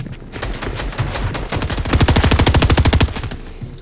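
Rapid automatic gunfire from a Fortnite match, a loud close string of evenly spaced shots that speeds into a dense rattling burst before easing off.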